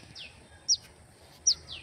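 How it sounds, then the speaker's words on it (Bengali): Tailorbird chirps outdoors on a sunny morning: two short, sharp high calls about a second apart, with a few fainter tweets, over quiet background. "পাখির কিচিরমিচির ডাক"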